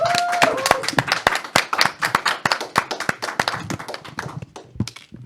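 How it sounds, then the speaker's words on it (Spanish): A small group claps for a guest at the close of a faith-themed talk show, with sharp, distinct hand claps in an uneven rhythm over about five seconds and a brief voice at the start. "La despedimos con un fuerte aplauso."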